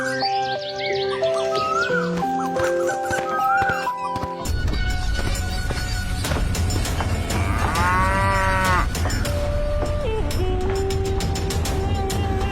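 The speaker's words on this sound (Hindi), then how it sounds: "रंभाते हुए भगवान को याद करती" A cartoon cow moos loudly in long, drawn-out calls over a continuous backdrop of music, with the lowing rising and bending in pitch and no speech.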